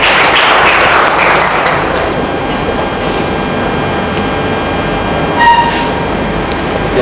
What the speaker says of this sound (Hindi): तो सर पहले तालियां बजाते रहिएगा।